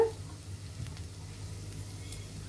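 Ginger frying in a pan for a prawn and bottle gourd dish, giving a quiet, steady sizzle with a low hum underneath and no talking.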